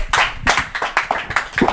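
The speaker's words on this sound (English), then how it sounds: "Big round of applause, Colin, please." Brief round of audience clapping for a guest at a climbing World Cup event, arriving as quick, uneven bursts of hands that rise and fall over under two seconds.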